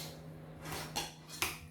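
A utensil mixing a persillade topping of parsley in a bowl: a few soft scrapes followed by two sharp taps of metal against the bowl, faint and close in a quiet kitchen.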